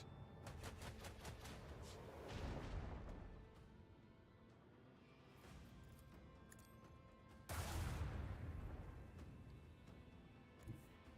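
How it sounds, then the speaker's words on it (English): Macro cannons on a ship in the Rogue Trader game fire in rapid rattling volleys, with two louder heavy blasts swelling and fading amid ongoing crackling bursts, faint overall and without speech. "Let the macro cannon sing"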